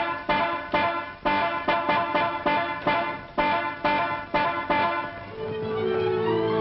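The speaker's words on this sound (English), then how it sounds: "who's been honking my horn for the past 5 minutes" A car horn from a 1937 film blares in a rapid series of short, loud honks, nearly a dozen blasts in an uneven rhythm, before settling into a steadier sustained tone, with no talking.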